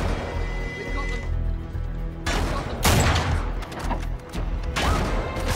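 Talon sniper rifle fire in Uncharted 3 combat, several loud sharp shots with crashing impacts over a dense game soundscape, bursts spaced a second or two apart.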